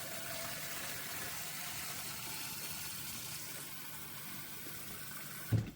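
A Melitta Latticia coffee machine's water tank being filled from a tap, a steady running-water rush that holds evenly and ends with a brief clunk. No voices.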